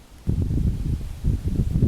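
Wind gusting across a freshly cut meadow in Kent in July, heard as low rumbling buffets with faint leaf rustle, rising sharply after a quiet start and then surging in uneven waves.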